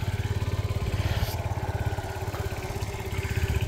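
A Sinnis Twist 50cc moped engine idles close by with a steady, rapid putter that keeps an even rhythm for a few seconds and has no talk over it.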